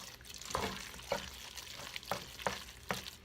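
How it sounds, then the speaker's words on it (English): Cooked macaroni gets stirred with egg and cheese in a bowl, wet squelching scrapes in a loose rhythm of five or six strokes, close and soft, without talk. "I add an egg to it, and I mix it up"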